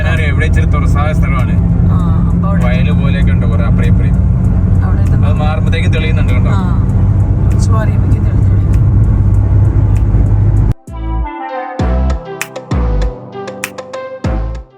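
A car being driven on the way to Lucknow airport gives a steady low engine and road hum for about ten seconds with talk over it, then the sound cuts off abruptly and only voices and quieter noise remain.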